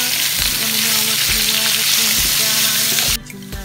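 Pork belly frying in a pan, a loud, close, hissing sizzle with a regular pulse of stirring strokes that cuts off abruptly near the end.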